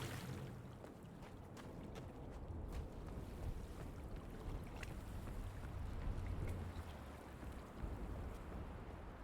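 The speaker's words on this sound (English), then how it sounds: "Geyser sounds like wind." A geyser in Myst gives off a steady, wind-like rush of hissing air and water that holds at a moderate level the whole way through, with no voices over it.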